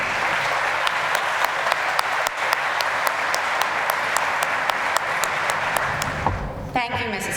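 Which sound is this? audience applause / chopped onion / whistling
audience applause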